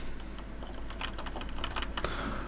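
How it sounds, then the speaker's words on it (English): Keys clatter on a Razer BlackWidow V4 mechanical keyboard, a quick irregular run of close, crisp clicks over a low steady hum. "type keys you want to record."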